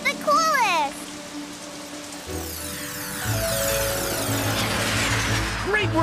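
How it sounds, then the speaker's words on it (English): Cartoon rain falls from magic rain clouds conjured with a unicorn's horn in an animated children's show. Whooshing magical tones give way to a steady, hissing patter of rain. "She's using her magic horn to make rain clouds!"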